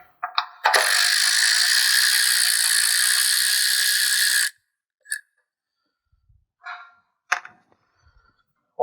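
A ratchet spins a bolt loose while removing the fender of a 2019 Acura TLX, giving one long rapid clicking run of about four seconds, then a few brief clicks and knocks.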